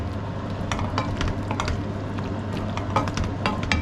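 Mushrooms being stirred in a pan with a sizzling undertone, clinking utensil scrapes scattered across the stretch amid a steady low hum.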